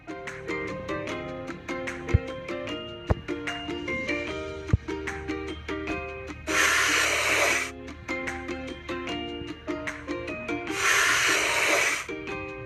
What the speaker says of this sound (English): Let's point the sprayer at the stain and paint it over.